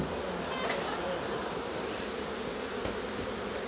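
A honey bee swarm pours into a hive at an outdoor beekeeping field day, a dense, steady buzzing drone filling the whole stretch with no break.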